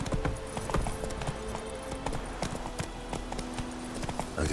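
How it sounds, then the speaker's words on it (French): Horse hooves clip-clop in quick, steady rhythm as a horse moves along in The Witcher 3 video game, close and fairly loud throughout, with no one speaking. "Mon cheval."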